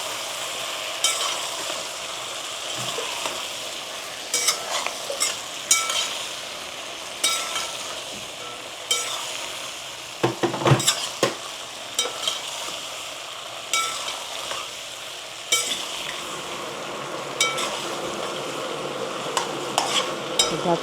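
Soybeans and green chillies frying in a pot for a veg soya pulao, a continuous sizzle broken by repeated clattering stirs of a spoon against the pan, close and fairly loud, no voices.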